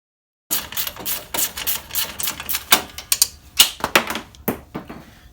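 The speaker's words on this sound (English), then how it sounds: "just take these two top bolts off, so you can get more room, so you can move the cooler around" A ratchet removes the top bolts of a Tru-Cool 40K transmission cooler on a 4L60E setup, rapid close clicking in bursts of varying loudness, with no voices.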